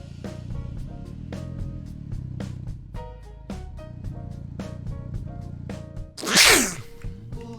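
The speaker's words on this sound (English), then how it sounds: "Had a sneeze." A single loud, sharp sneeze from a person gaming, bursting out near the end over steady background music, close and brief.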